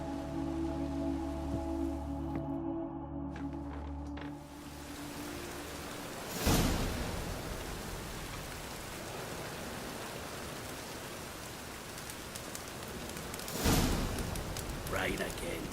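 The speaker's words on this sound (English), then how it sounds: "Rain again." Steady rain hisses as a broad, continuous wash in the video game The Witcher 3, with two sharper surges like gusts or distant thunder; earlier there is a low musical drone.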